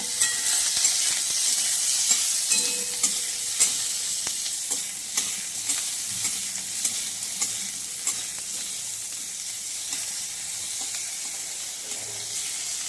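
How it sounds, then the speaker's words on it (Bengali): Garlic, onion, tomato and green chilli fry in a pan with a steady close sizzle, broken by repeated light scraping stirs throughout. "এটা আমি একটু ভেজে নিচ্ছি রসুন পেঁয়াজ টমেটো কাঁচা লঙ্কা"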